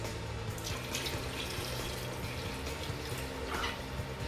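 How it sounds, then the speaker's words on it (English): Steady running water pours from a tap into a cooking pot, a continuous broadband rush that holds for several seconds with no talking. "I'm just getting some water to add to my pot."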